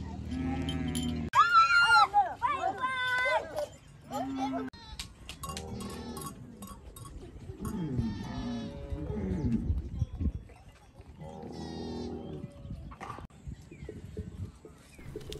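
Mundari cattle in a South Sudan cattle camp moo and low in repeated calls, some near and loud, others farther off. People talk between the calls and shuffling movement sounds come from the herd.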